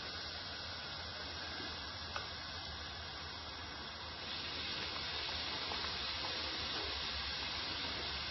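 Scotch eggs fry in hot oil in a pan, a steady broadband sizzling hiss that swells louder partway through as more eggs go in, continuous and close.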